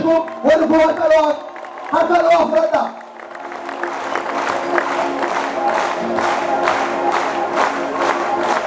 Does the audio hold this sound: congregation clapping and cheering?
yes